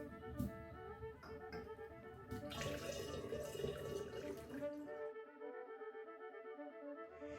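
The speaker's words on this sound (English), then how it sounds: "now I'm just going to add in 3 quarts of plain cool water" Water pours and splashes into a jug for several seconds, three quarts of plain cool water, then stops, leaving a quiet room with faint background noise.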